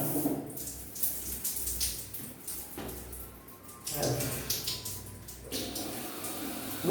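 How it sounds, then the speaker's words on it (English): Water runs from a luxury house's shower with hand shower, a hissing spray that rises and falls in bursts as it is switched, with someone talking in between. "Good water pressure. Water pressure is very good."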